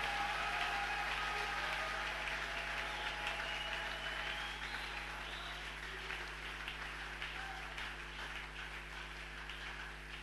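A congregation applauds during a church service, a steady wash of clapping that stays even and fairly faint for the whole stretch, slowly thinning toward the end.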